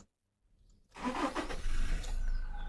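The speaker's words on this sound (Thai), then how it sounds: "เดี๋ยวผมสตาร์ทเครื่องยนต์ให้ดู" After a moment of silence, the engine of a 2020 Toyota Revo 2.4 pickup truck cranks, catches and settles into a loud, steady running rumble close by.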